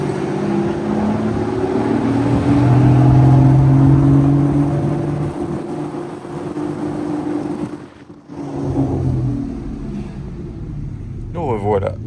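A Gintani-tuned Lamborghini Revuelto revs and drives through Monaco, a loud rising engine roar that swells and settles, briefly drops away, then returns with someone talking over it.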